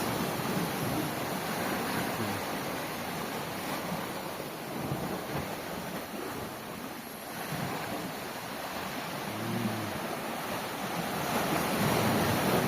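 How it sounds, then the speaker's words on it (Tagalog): Strong ocean surf on a fishing trip, a continuous roar of breaking waves with wind buffeting the microphone, steady and loud throughout with no voices. "Lakas ng wave guys."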